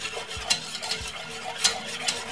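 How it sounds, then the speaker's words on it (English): A spoon stirs dark chocolate powder into a hot drink in a cup, giving a few close, light clinks and scrapes spread unevenly across a couple of seconds. "Give it a stir."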